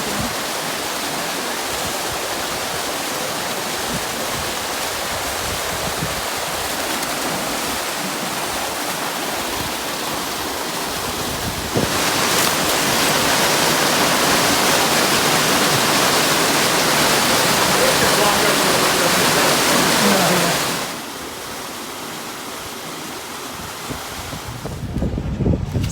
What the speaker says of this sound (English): So we just saw the waterfalls